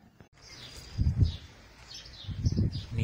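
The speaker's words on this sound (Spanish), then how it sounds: "Mirad los jilgueros cómo asoman la cabeza por el nido." Goldfinch chicks at their nest give thin, high twittering chirps, faint and scattered over soft low rustling and bumps close by.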